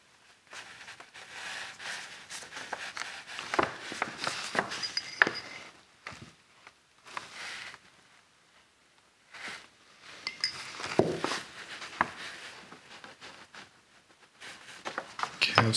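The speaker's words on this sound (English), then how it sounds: "I'm going to take my popsicle stick and see if I can mix up some" Popsicle stick stirring and scraping pigment into an oil paste for Victorian paint, giving soft clinking, scraping taps in short bursts separated by quiet pauses, close and moderately faint.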